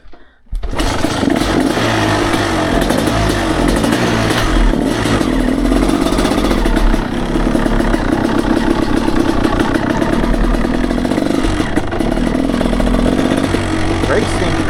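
A dirt bike engine runs while riding, a loud, steady close-up motor drone with a rough clattering edge that holds nearly constant throughout, with wind buffeting and a voice speaking over it.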